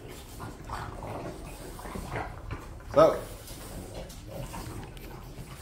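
French bulldogs snort and snuffle while chewing bully bites treats, with one sharper snort standing out midway. A person talks over the eating throughout.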